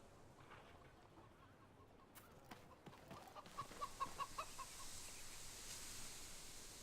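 Chickens cluck in the Fable III video game, a faint quiet stretch giving way to a run of short clucks and squawks rising toward the end against soft background ambience.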